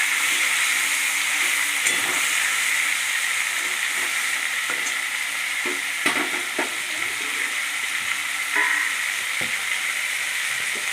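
Chicken for a sweet-and-sour dish frying in a pan over lowered gas, giving a loud, steady sizzle with occasional scrapes and taps from stirring and no talk.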